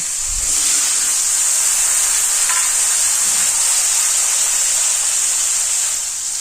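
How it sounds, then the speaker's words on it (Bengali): Potato pieces land in hot oil in a wok for a vegetarian jackfruit curry, bringing a low thump at the start and then a loud, constant hiss of frying that fills the whole stretch. "এবার আমি আলুর টুকরোগুলিকে কড়াইয়ে দিয়ে দিলাম"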